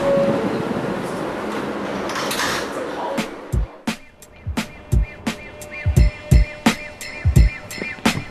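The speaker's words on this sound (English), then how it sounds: "This is a Manhattan-bound L train." A Manhattan-bound L subway train at a station, with a rumbling, hissing platform wash that gives way to a series of sharp, rhythmic clunks and thumps as the doors close and the car starts moving.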